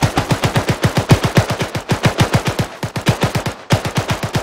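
Rapid automatic gunfire in the military shooter ArmA, suppressing a window during an urban battle: a steady, loud stream of close shots with brief gaps between bursts, no talk.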